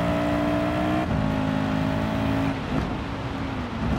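A race car engine drones steadily in Gran Turismo 7 on a dirt course, holding a strong, even tone with small pitch shifts as the throttle eases off, loud and alone with no voices.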